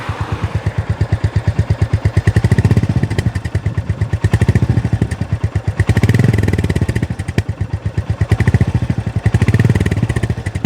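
A Royal Enfield Goan Classic 350 motorcycle's homologated exhaust throbs with a rapid, loud pulsing beat, swelling in several gentle revs over a steady idle, close up.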